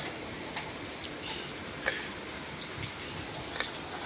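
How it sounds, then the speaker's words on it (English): Light rain falling at night during Hurricane Delta, a soft steady patter with occasional sharper drips and taps spread through the clip, faint and fairly near, without talk. "Oh, the rain is slowing down."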